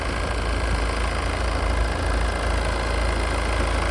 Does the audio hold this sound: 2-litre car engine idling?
yes